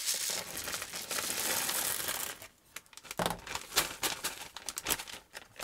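A plastic bag crinkles and rustles continuously, then in sharper bursts, as blue keyboard switch stems are bagged for lubing, close up with no talking.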